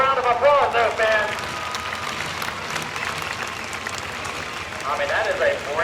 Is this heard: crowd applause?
yes